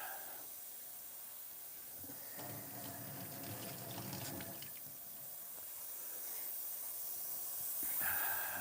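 Tap water runs steadily as bike parts are rinsed at a sink, a faint hiss with brief louder splashes where the parts pass through the stream.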